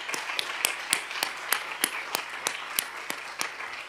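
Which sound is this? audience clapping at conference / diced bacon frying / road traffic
audience clapping at conference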